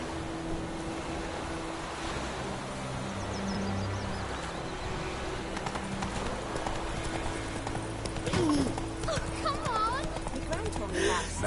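Hooves of the horse Roach clip-clop at a brisk gallop through the fantasy game world of The Witcher 3, a steady rhythmic pounding under game music and character dialogue, with a brief whinny near the end.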